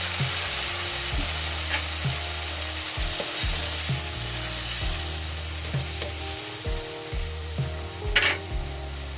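Soy sauce hits string beans frying in a pan for adobong sitaw, setting off a steady loud sizzle with rhythmic stirring scrapes and clacks throughout, no voices.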